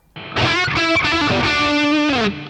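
A single distorted electric guitar chord on the bridge pickup rings out loud and bright for about two seconds, then cuts off sharply.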